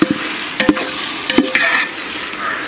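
Chopped tomatoes are stirred into onions and ginger-garlic paste frying in a pan for ghee rice, with a steady sizzle broken by a few sharp scrapes and clacks of the spoon.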